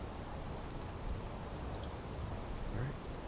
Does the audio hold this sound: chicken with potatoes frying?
no